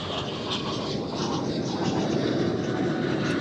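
A Boeing 777 at Amsterdam Schiphol Airport gives a steady, broad jet engine roar at a moderate distance, rising slightly over a few seconds with no talk.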